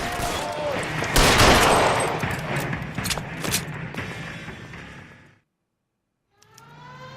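Sustained gunfire during a shootout in the video game L.A. Noire, with rapid overlapping shots and booms that build loudly and then fade before a sudden silence, followed by a quieter resumed bed of sound.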